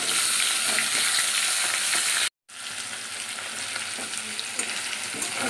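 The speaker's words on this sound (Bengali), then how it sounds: "আলুটা ভাজা করে নিই।" Potato pieces frying in a pan, a loud continuous close sizzle with light stirring clatter, cut by a brief moment of silence before the hiss resumes slightly softer.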